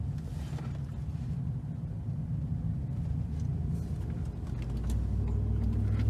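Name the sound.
2019 Silverado engine with K&N 63 Series Aircharger intake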